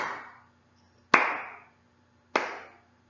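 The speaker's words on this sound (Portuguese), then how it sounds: "eu estou batendo palmas em um ritmo" A person's hands clap in an even rhythm, one clap at a time with a pause of about a second between each, every clap sharp and ringing briefly in a quiet room.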